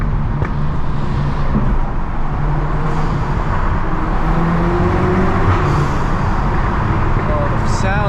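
A loud Mk7.5 Volkswagen Golf R drives through Boston city streets, its engine drone steady under road noise with occasional sharp exhaust pops and crackles from the tuned exhaust.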